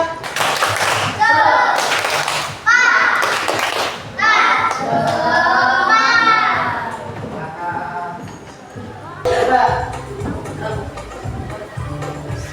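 A school class claps in a quick rhythmic cheer pattern, with bursts of coordinated clapping and voices chanting along between the beats.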